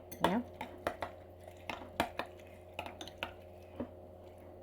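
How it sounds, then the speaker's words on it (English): A spoon stirring muesli in a bowl, giving light clinks and scrapes in an irregular rhythm, close but quiet, with no one talking. "A lot of stirring."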